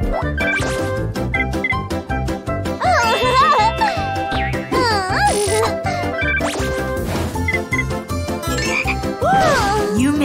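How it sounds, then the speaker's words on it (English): A cartoon frog croaks amid a busy children's music track, with repeated chirpy vocal-like calls and bouncy jingling sounds running throughout at a steady, loud level. "You made a frog."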